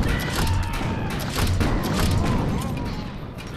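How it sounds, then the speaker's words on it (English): A grenade launcher in the game Defiance 2050 fires in a few heavy thumping booms amid loud gunfire and mechanical clatter, close and dense. "It's the grenade launcher, that's right."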